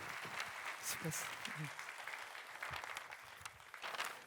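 A church audience claps for the children, a continuous patter of applause with voices speaking and calling out over it.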